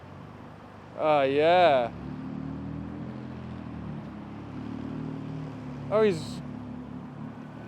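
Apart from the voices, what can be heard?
JDM car engine revving with throaty exhaust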